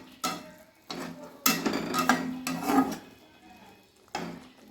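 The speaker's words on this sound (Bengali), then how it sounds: "এই গ্রেভির সঙ্গে আমি মাছগুলো খুব ভালোভাবে মিশিয়ে দেব" Koi fish being stirred into boiling pepper gravy in a pan, a spoon scraping and clinking against the metal in several separate bursts over a soft bubbling background.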